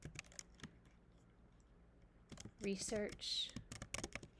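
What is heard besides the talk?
typing on a computer keyboard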